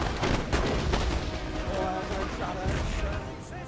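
Massed Napoleonic-era infantry volleys in Total War Napoleon, a continuous crackle of overlapping musket shots and booming bursts at steady loudness, with a voice talking over the battle.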